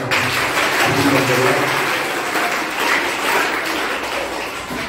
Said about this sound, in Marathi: सर्वांनी टाळ्या वाजवून